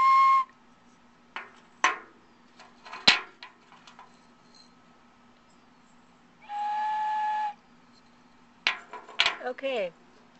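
Raku-fired ceramic whistles sound in turn: a short high toot at the start and a longer steady one in the middle, with intermittent speech and small handling noises between them.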